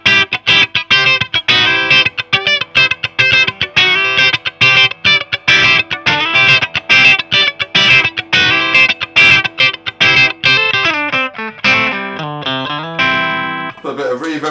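A Michael Kelly 1967 electric guitar with its humbucker split to single coil plays a rapid, twangy country-style run of plucked notes, loud and close, ending with sustained ringing chords.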